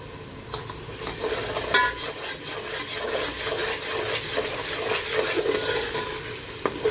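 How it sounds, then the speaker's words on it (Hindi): Masala with Kashmiri red chilli being stirred and slowly roasted over low heat in a pan for haddi guddi ka salan; steady sizzling with repeated scraping and rubbing of a spoon against the pan, close and continuous. "धीरे धीरे भून रहे हैं हम चलाते हुए।"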